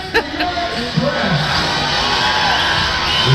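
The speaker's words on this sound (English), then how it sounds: "Loud crowd here, as you can hear here." A loud crowd at an indoor basketball game, Windsor Express versus London Lightning, a sustained roar of cheering, whoops and shouting children, with a commentator's voice talking over it.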